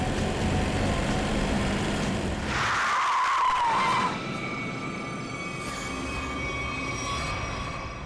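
A car brakes hard and nearly strikes a woman: tires screech sharply for about a second over loud, steady engine and road noise, then the rumble settles, close by, with no talk.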